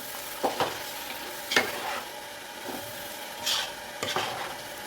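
Steady sizzling of tomatoes and salt frying in a pan, with intermittent scraping stirs and soft clinks of a spoon against the pan, heard up close with no talking.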